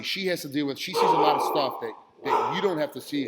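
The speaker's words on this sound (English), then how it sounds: "They're barking at him." Dogs bark outside, sharp repeated barks and yips mixed in among steady conversation, fairly close and partly masked by the voices of people talking over them.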